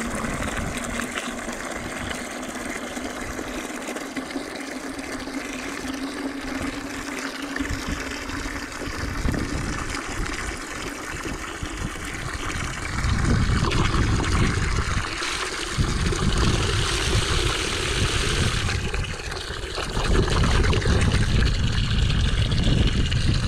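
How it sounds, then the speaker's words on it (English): Cold water pours into a bucket on a ranch, a steady hissing rush that deepens and grows louder as the bucket fills, heard up close with no talk. "So just get this water in there"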